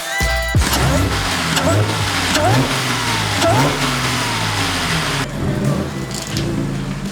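A Ferrari F8 under test drive after an injector problem, its engine droning loud and close from inside the cabin, rising in short revving surges through gear changes before easing down.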